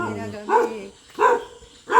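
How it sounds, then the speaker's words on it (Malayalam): A dog barks at night outdoors, three loud, close barks evenly spaced about two-thirds of a second apart, with a low voice briefly heard beforehand. "ഒരു പട്ടി ഇവിടെ ഉണ്ട്."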